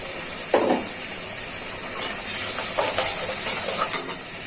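Spice paste of chili and turmeric powder frying in a pan for a country chicken curry gives off a sizzling hiss, with intermittent scraping and stirring clatters and a sharp knock at the start.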